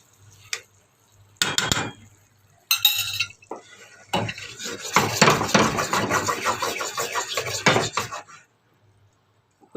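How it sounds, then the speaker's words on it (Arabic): A utensil stirs potatoes topped with bell pepper rings and olives in a pan, giving close scrapes and metallic clinks in irregular bursts, with brief pauses at the start and end. "نقلب بالراحه عشان ايه، ما تتبهدلش."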